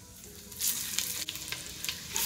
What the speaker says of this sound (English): I add in 4 tablespoons, which is a half a stick of unsalted butter. And now we're going to add in 1 small onion that I grated